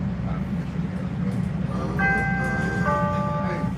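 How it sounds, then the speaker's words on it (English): A Chicago Green Line train rumbles steadily, with a low rolling drone, while a short series of bright electronic chime tones sounds twice over it, and voices are heard faintly. "This is a Green Line train to 63rd and Ashland."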